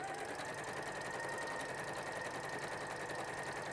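A sewing machine runs continuously, stitching a quarter-inch seam through linen-look fabric for a dog cushion, giving a steady, even mechanical whirr with no pauses and no talking.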